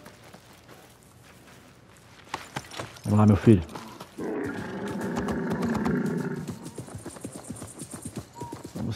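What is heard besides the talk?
horse hooves galloping in video game Assassin's Creed Mirage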